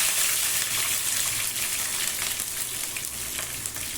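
Garlic and cumin fry in hot oil, giving a dense, continuous close-up sizzle with a bright crackling hiss that holds steady throughout.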